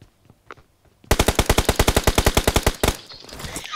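A single sustained burst of rapid automatic gunfire in the mobile shooter BGMI, loud and evenly spaced, running for nearly two seconds after a quiet start, then cutting off.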